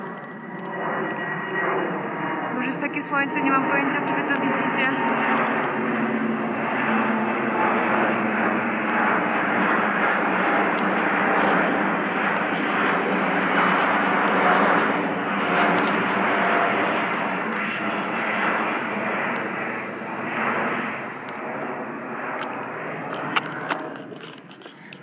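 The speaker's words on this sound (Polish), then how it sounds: "ale samolot ekstra leci" An airplane flies overhead with a loud, sustained engine roar that swells and holds for the whole stretch, close and dominant. Someone speaks briefly over it.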